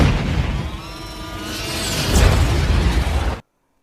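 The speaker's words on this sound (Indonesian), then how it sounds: "bola besi penghancur itu meledak boom karena dirudal oleh pesawat tempur" A cartoon wrecking ball struck by a fighter jet's missile bursts in a loud, sustained explosive rumble with crackling debris that cuts off abruptly.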